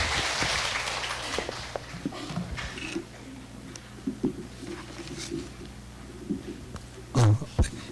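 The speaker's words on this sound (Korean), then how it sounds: "우리 강민규 과장님을 박수로 맞아주시기 바랍니다" A forum audience welcomes a health ministry official with applause that starts fairly strong and thins into scattered, fading claps, with a low hum and a few bumps near the microphone.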